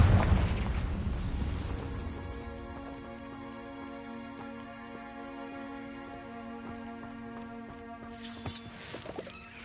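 A Confringo spell explosion in a video game opens with a heavy booming blast, then fades into a long sustained ringing tone with crackling bursts near the end, loud at first, with no talk.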